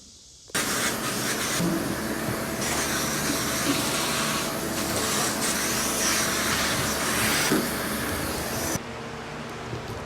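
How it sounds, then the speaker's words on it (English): A vacuum cleaner switches on abruptly and roars loudly for several seconds, its airflow hissing and fluttering as it sucks up sanding debris off an oak floor, then cuts down near the end. "Now I'm gonna take the vacuum and vacuum up all these little nubs that I've knocked off."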